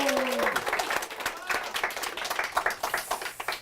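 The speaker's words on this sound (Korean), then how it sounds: "박수 부탁드리겠습니다." An audience at a Korean book forum talk breaks into brief, dense applause welcoming a guest author, many hands clapping close and steady over a few seconds while a voice speaks at the start.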